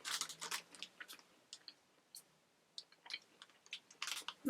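A stroopwafel, a Dutch butter syrup waffle, being bitten and chewed up close, with a run of crisp, irregular crunching bursts separated by quiet pauses.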